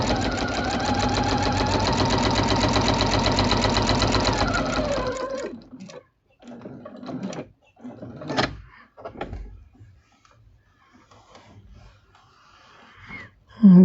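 A sewing machine stitches scrap fabric in one steady, loud run of about five seconds, then stops; quieter handling clatter and small bumps follow in the pauses.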